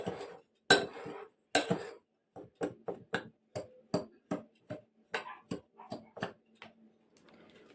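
A spoon clinks and scrapes against a bowl while stirring in sugar for a cake batter, a steady rhythm of about a dozen sharp close taps with short pauses, and no voices.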